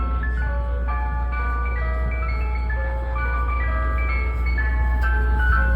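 An ice cream truck on a freezing New York City street at about 30 degrees plays its jingle, a steady, looping chime melody over a constant low street rumble, with no one talking.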